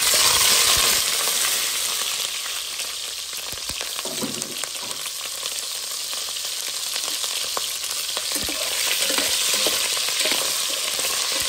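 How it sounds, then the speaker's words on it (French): Sausage fries in a pan with a loud, continuous sizzle that stays close and even throughout, with faint scraping and clinks of stirring underneath. "ça fait frire mon saucisse"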